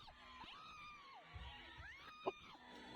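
An audience screams and shouts at a live variety show, sustained, wavering high cries layered over a noisy crowd, with one sharper shriek near the end and no clear speech on top.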